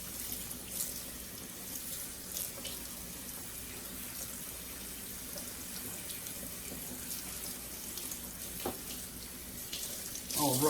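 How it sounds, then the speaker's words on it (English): Tap water runs steadily as a K&N air filter from a Jeep Wrangler is rinsed from the inside, a soft continuous splashing stream, fairly faint, with a brief louder gush at the end. "Let's go ahead and wash it out from the inside as well."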